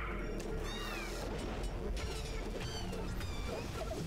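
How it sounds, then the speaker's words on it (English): Extra-dimensional cats in a video game meow repeatedly in rising and falling calls over dense game noise, several overlapping cries spread through the stretch with no talking. "Extra dimensional kitties."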